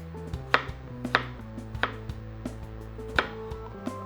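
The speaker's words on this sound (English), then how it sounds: "So I'm just going to cut little 1/4 inch slices of strawberry" A knife slices strawberries into quarter-inch pieces on a cutting board, giving about a dozen crisp, close taps in an irregular rhythm over a low background hum, with no talking.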